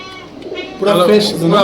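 Black Gorra pigeons coo close by in soft, throaty bursts that grow louder and fuller toward the end, with a voice talking alongside.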